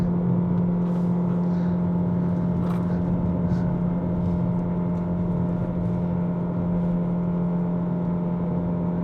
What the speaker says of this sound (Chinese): 这一个引擎的声浪哦